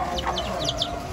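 Gamecock chickens at a breeding farm give a run of short, clucking and chirping calls over a busy, noisy outdoor background.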